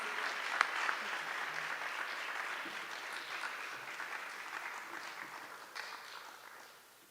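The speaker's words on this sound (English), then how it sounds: "Let's give her a round of applause." Applause at an awards ceremony for a winner, a broad wash of clapping that starts fairly strong and gradually fades away over several seconds, heard at a distance.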